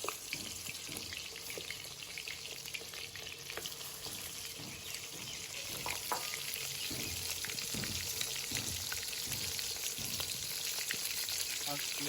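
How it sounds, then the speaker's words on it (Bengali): Katla fish pieces fry in hot oil in a kadai, giving a steady, continuous sizzle with small crackles throughout. "মাছগুলো তখন ভাজা হোক"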